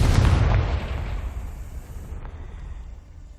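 A Confringo blasting spell in Hogwarts Legacy explodes with a loud, deep boom at the start, then a rumbling blast tail that slowly fades over a few seconds, with no voices over it.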